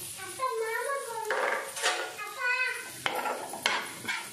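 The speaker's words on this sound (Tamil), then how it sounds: "நல்லா வறுத்து எடுத்துக்கணும்." Semolina and coconut roasting in ghee in a pan for a Diwali sweet, soft close scraping and stirring with light metallic clinks of a spoon against the pan.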